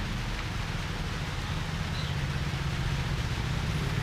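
Rain falls in a steady, even wash with a heavy low rumble underneath. No one speaks.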